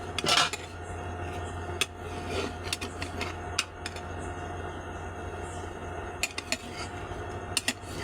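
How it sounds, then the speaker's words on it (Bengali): A pot lid is lifted and set down while patishapta pitha cooks, giving scattered metallic clinks and scraping knocks over a low, steady kitchen hum. "ঢাকনাটা তুলে নিলাম।"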